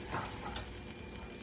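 Masala sautéing on high flame for egg curry, a brief, faint sizzle with light stirring, close by and without talking.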